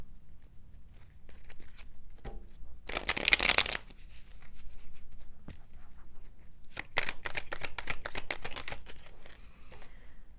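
Intimate Tarot cards being shuffled in two bursts of quick, crisp riffling, one near the start and a longer run later, with quiet handling noise in between and no talk.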